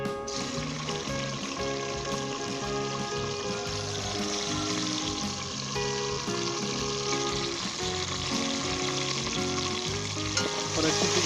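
Onion with ginger and garlic sizzles and fries steadily over high heat for a beef biryani, a dense continuous crackle with faint stirring and no talking.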